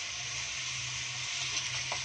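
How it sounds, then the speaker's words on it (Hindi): Okra sizzling steadily as it fries in a pan over a low gas flame, a continuous dense crackle heard close up with no voices. "और आप देख सकते हैं ये अच्छे से हमारी भिंडी को मैंने भून लिया है।"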